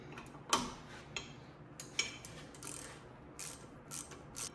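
Ratchet clicks ring out in bursts as bolts are snugged down on a Ford F150's 2.5 coilover with billet aluminum parts, a close, quiet rhythmic ticking repeated over several short pulls with brief pauses between, with no talking.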